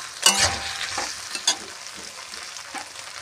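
Ground ginger and cumin paste fries in hot oil with a soft sizzle, punctuated by a few sharper stirring clatters early on, quiet and close throughout.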